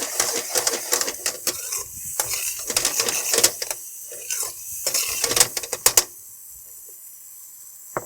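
Turmeric sizzling in hot oil in a pan while cooking Kathiyawadi sev tameta shaak, a steady crackling fry with dense clicky spatters that stops abruptly near the end.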